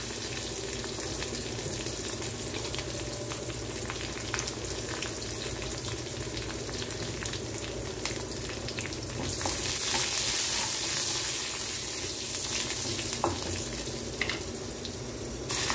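Garlic fries in a pan for a onion-tamarind dish, a constant crackling sizzle with occasional stirring scrapes and a brief louder surge of hissing midway, no speech.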